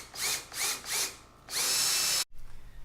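A power drill drives 2.5-inch screws up through countersunk holes into a wooden table top. Three short, loud whirring pulses are followed by one longer sustained run that cuts off sharply.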